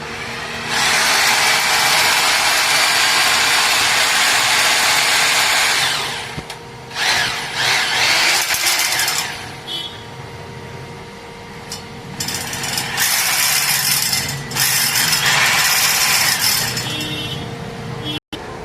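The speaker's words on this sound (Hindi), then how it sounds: "मैंने इस बिट को इस मशीन में लगा दिया है, हैमर बोर्ड को ऑन कर लिया है" A hammer drill fitted with a diamond core bit runs loudly and steadily for about six seconds, then stops and restarts in several shorter bursts with brief pauses, for AC fitting work.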